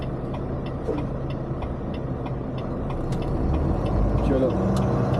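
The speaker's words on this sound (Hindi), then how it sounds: "यहाँ एक गाड़ी आ रही, उसके बाद हम टर्न करेंगे।" A car approaching on a street during a delivery-day drive in Washington, with a steady engine and road rumble that swells slightly louder toward the end, faint ticking over it, alongside a voice speaking.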